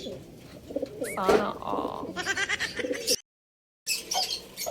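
Racing pigeons coo close by in soft throaty bursts at a pigeon racing derby in Vigan, Ilocos Sur, mixed with fluttering and nearby voices talking, then a brief silence before the sounds resume.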